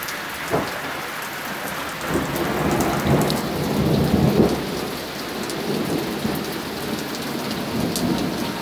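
A thunderstorm pours heavy rain with pea-sized hail drumming on surfaces, while low thunder rumbles and swells in the middle. The downpour is steady and close, and no voices are heard.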